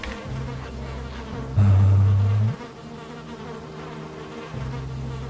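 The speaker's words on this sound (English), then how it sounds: "here's a bee already" A bee buzzes in the Valheim video game, a steady droning hum that swells loudly for about a second mid-clip before settling back to a constant buzz, with no talking.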